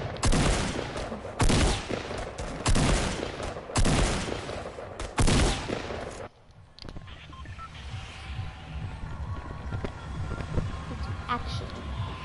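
Video game gunfire from a sniper and a shotgun: several loud, sharp blasts in a rough rhythm, then a sudden drop to a quieter bed of game sound with a voice talking.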